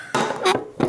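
A ratcheting rivet tool clicks and snaps as a rivet sets into the side of a computer case drive bay, three quick, sharp clacks close by within a second.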